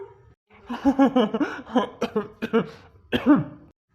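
A person nearby coughs in a quick series of throaty bursts mixed with laugh-like sounds, then gives one more cough after a short pause.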